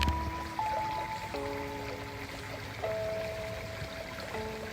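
Creek water trickling and gurgling over rocks outdoors, a soft continuous flow heard fairly faintly, with some tonal background sounds layered over it and no talking.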